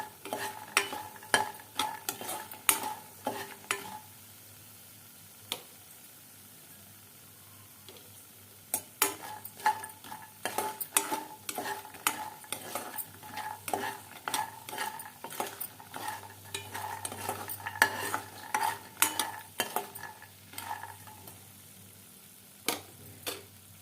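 Makhana being lightly fried in ghee, with a soft sizzle under frequent spoon stirs and clinks against the pan, fairly quiet and close, with no speech.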